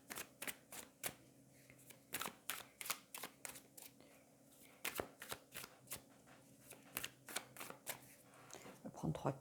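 Tarot cards shuffled in quick, crisp riffling bursts, about fifteen separate snaps and flutters across the stretch, close and fairly quiet, with soft handling noises between them and no talking.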